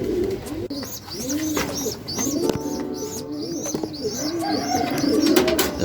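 Racing pigeons coo over and over at close range, soft repeated throaty calls overlapping one another, with faint chirps and rustling in the background and no talk.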